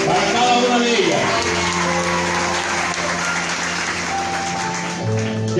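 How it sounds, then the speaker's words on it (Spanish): Applause for beauty pageant candidates at a queen contest, heard under steady music with sustained tones and a voice; the clapping forms a dense wash behind the accompaniment throughout. "pido nuevamente un fuerte aplauso para cada una de ellas."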